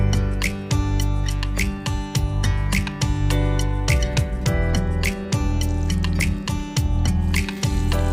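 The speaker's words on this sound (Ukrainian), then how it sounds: "викладаю дірочкою вниз на розігріту з олією сковорідку" Belyashi dough pockets set hole side down in a frying pan with a little hot oil, giving a steady loud sizzle with frequent crackling pops and spits throughout, no voices.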